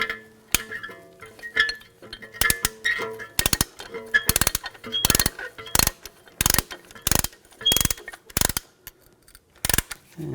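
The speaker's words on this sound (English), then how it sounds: "And slowly compress the piston." A caliper compressing tool ratchets a BMW 550i front brake piston back, producing a series of loud, sharp metallic clicks in irregular bursts, close up with no talking.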